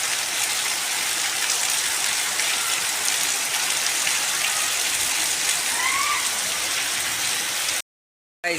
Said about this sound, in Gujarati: આપણી છત ઉપર પાણી આવે છે જોરદાર જોઈ લ્યો